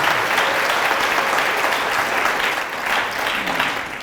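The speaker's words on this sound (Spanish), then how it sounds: "Fuertes aplausos al Rey de Reyes" A church congregation claps in strong, sustained applause, a dense even roar of hands with no break, heard close and loud throughout.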